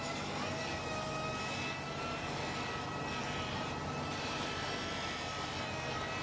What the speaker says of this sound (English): Now, using this brush and some polishing compound that is just applied there, we're going to brush out the abrasive marks that we've got left in.